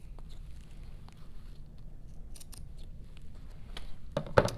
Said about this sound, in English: we'll trim off just the excess fabric in this little rectangle. So I just like to trim off those triangles.